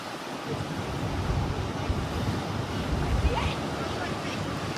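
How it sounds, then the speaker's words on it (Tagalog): Loud, rough ocean surf roars continuously at the Natural Bridge coral limestone coast in Aruba, mixed with heavy wind buffeting the microphone. "Lakas na ang alon."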